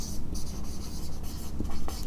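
Math equations are written by hand on a board in quick scratchy strokes, with short bursts and pauses in an uneven rhythm, close and clear.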